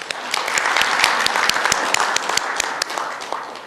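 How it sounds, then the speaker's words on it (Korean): Applause from a lecture audience at a future-management forum greets a speaker, a dense burst of many hands clapping at moderate distance, steady for a few seconds and then easing slightly. "힘찬 박수로 맞이해 주십시오"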